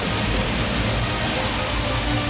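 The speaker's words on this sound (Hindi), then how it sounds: "उसी शाम को बारिश जोर से होने लगी और सब लोग अपने घरों में छिप गए।" Heavy rain pours steadily, a loud dense hiss that stays unbroken throughout with no other sounds on top.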